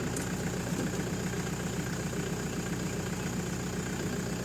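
A Toyota Hi-Ace engine that has just been started runs at a steady idle, a close, loud, even rumble with a faint rhythmic knock and no talk over it.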